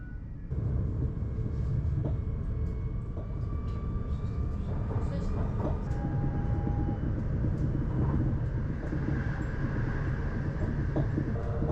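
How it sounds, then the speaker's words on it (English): An ICNG InterCity New Generation train runs on rails between Rotterdam and Schiphol with a low, constant rumble and faint rhythmic clicks from inside the carriage, while a voice talks over it. "the train will dive underground to pull into Schiphol Airport station"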